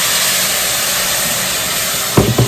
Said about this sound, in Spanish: el vapor sale súper caliente y el agua también está caliente